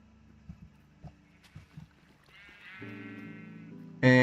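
Sheep bleating in a pen in a Minecraft-style survival multiplayer game, with soft footstep-like taps early on, then a drawn-out wavering bleat and a sudden loud bleat at the very end.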